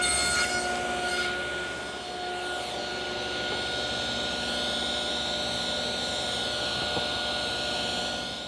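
A table saw cuts tenons on narrow workpieces held in a clamping tenoning jig, giving a continuous loud whining drone that holds steady throughout with no voices.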